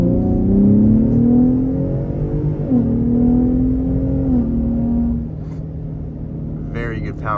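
A 2023 Ford F-150 Raptor pickup accelerates hard, its engine drone climbing in pitch, then dropping at a gear shift and climbing again before easing off. The engine is loud and close, and someone speaks over it.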